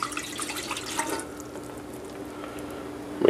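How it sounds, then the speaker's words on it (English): Water pours from a tap into a small pot that will serve as a steamer, a close, steady splashing stream that fades out partway, then a short clank at the end. "Pour some water in there."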